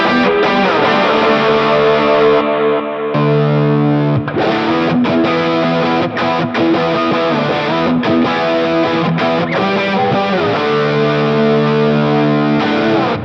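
Electric guitar through the Plexi Danger Zone preset on a Fractal Axe-FX, playing loud, heavily driven chord riffs with a few quick stops, close and continuous, with no talking.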